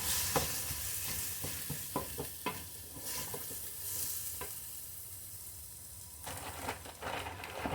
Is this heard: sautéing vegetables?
yes